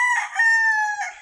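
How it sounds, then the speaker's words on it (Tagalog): A gamefowl rooster on a farm lets out a single loud, close crow, a sustained harmonic call with a rising start and a short trailing end, heard alone without talk. "nag-ingay yung mga manok dahil nga may aso kanina dito"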